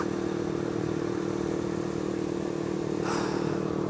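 A motorcycle cruises along steadily, engine droning at a constant pitch under loud wind rush, with a brief burst of added noise near the end.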